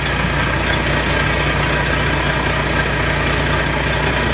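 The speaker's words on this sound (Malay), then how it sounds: "Jap, aku reverse saja." A car engine runs steadily while reversing, a continuous low idling rumble that stays loud and close throughout, with no talk over it.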